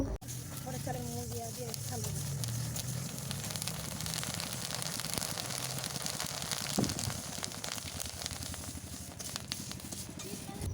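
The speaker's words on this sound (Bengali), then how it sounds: "দেখুন বন্ধুরা, এইভাবেই আমি সব মুড়িগুলোই কিন্তু ভেজে নেব।" Puffed rice roasting in hot sand, a dense continuous crackling and hissing rustle lasting throughout, close and fairly loud, with someone talking over it.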